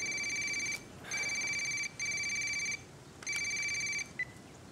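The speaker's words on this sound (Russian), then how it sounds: "Телефон звонит." A telephone rings in repeated electronic bursts, four rings with short gaps between them, moderately quiet and with no voices over it.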